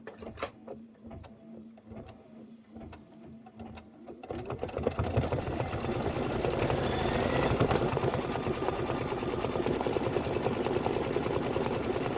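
A domestic sewing machine stitching a quilt block for a rainbow popsicle bench pillow, first a few stop-start bursts, then a steady, loud, fast continuous run alone without talk.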